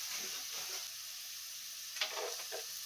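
Cashews and raisins fry with new potatoes in a pan for sabu pulao, a fairly quiet, steady sizzle with a brief stirring clatter near the end.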